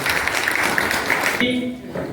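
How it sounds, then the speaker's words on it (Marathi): An award ceremony audience in Alandi near Pune applauds with about a second and a half of dense, steady clapping that fills the room, then gives way to a sustained tone and a voice. "अशा व्यक्तिमत्वासाठी एकदा जोरात टाळ्या वाजल्या पाहिजे"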